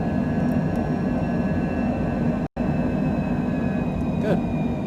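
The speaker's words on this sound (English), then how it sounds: "And rotate. Positive rate. Gear up." A Cessna Citation Longitude jet climbs out after takeoff from Scottsdale, Arizona, with a constant loud roar and thin high whine that barely change, broken by one short dropout while a voice calls out flight steps.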